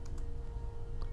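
Typing on a computer keyboard: a few quick, light key clicks close by over a low background hum.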